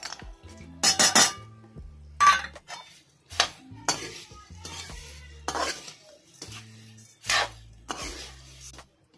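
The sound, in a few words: stirring coconut, peanuts and turmeric in a pan for poha chiwda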